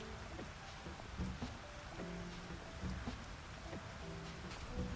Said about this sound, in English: This rain is not helping.